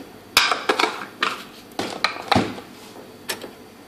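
A spoon stirs green tea mixed with Coffee Mate creamer in a cup, giving a close series of irregular clinks and scrapes against the sides, with no talking.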